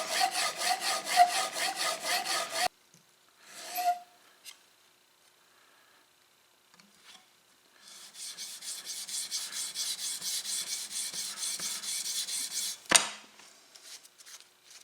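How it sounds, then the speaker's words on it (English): Rapid back-and-forth rubbing of a tool blade being honed, first steady strokes for a couple of seconds, then a pause with scattered faint touches, then a longer run of steady stroking ending in a sharp clack; no talk. "and then I'm going to take it over to the strop."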